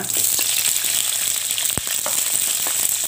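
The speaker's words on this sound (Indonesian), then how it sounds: "Kemudian ya, ini kita goreng ya, atau kita tumis. Ini cabai merah besarnya." Large red chilies fry in oil, a steady close sizzle with crackling pops and occasional stir clicks throughout, no talking.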